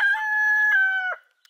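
A rooster crows once, a loud, sustained cock-a-doodle-doo lasting about a second, close by and alone, followed by a brief faint click.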